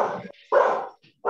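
A dog barks loudly and close by in two separate bursts with a short gap between them, and a third bark begins right at the end, heard alone without any talk.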